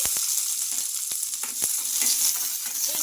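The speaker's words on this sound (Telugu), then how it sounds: "ఇప్పుడు ఇందులోకి మిర్చి అయితే వేసుకోవాలి" Green chillies crackle and sizzle in a spoonful of hot oil in a kadai, a dense continuous frying hiss with scattered sharp pops and spits, close up and with no talking.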